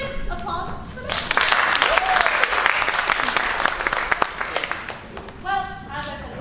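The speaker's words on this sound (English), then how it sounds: "Should I get applause for this?" Theatre audience bursts into applause for a few seconds, a dense wash of clapping that swells and fades, with speech heard before and after it.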